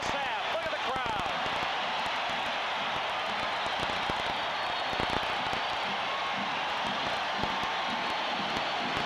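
Crowd at a 1980 NBA playoff game in Seattle roars steadily in a packed arena as the SuperSonics take the lead over the Milwaukee Bucks, a dense, continuous cheer with a commentator talking over it.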